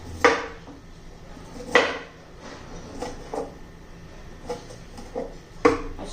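A knife chopping a head of cauliflower on a board in a home kitchen: sharp, uneven thuds about a second apart, close and clear, with quiet gaps between the cuts.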